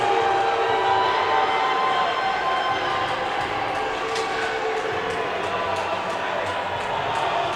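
Angry crowd at a men's college ice hockey semi-final, Fitchburg State vs UMass Dartmouth, upset with the officiating, making a loud, sustained arena roar of jeers and shouts with whistle-like cries that rises briefly midway through.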